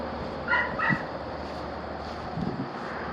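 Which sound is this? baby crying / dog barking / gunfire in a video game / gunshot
dog barking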